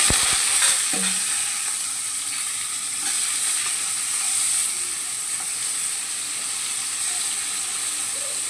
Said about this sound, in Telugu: అల్లం వెల్లుల్లి పేస్ట్ కూడా కొంచెం వేగింది